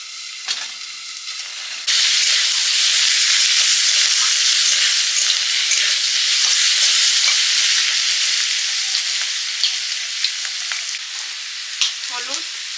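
Refined oil sizzling loudly in a pan for coriander chicken, a dense, steady frying hiss that starts abruptly and continues without a break, with small crackles and pops throughout.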